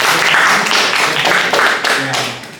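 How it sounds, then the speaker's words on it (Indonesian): Audience applause for a participant at a university teaching session, a brief burst of close, lively clapping with rhythmic pulses that fades out near the end. "tepuk tangan untuk temannya"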